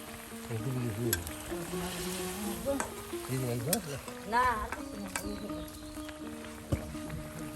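Fish pieces cooking with ground spice paste in a pan over a village clay stove, a soft sizzle and scraping stirs running beneath people talking nearby.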